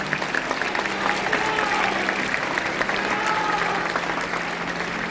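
Steady applause from a seated congregation at a Korean church pastoral ordination ceremony, dense and even throughout, with faint voices murmuring beneath the clapping.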